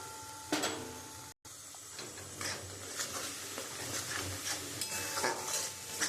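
Ground spices with turmeric, coriander, cumin and chili powder frying in a pan for a mutton curry, a soft sizzle under repeated scraping stir strokes, briefly cut to silence near the start.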